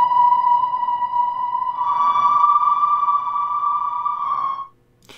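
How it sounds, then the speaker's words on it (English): Blurred, resampled synth pad drenched in wet reverb, built in FL Studio: a steady, sustained tone with soft harmonics that swells slightly midway, then cuts off cleanly near the end. "It's kind of like listening to the pad and you put a reverb on it and then you turn the dry signal down and the wet signal up."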